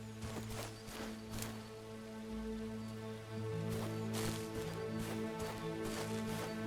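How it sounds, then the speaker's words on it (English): Steady rain falls in Robin Hood - Sherwood Builders, a soft, even patter that persists throughout beneath a faint, constant game music drone, with no talk. "Also raining."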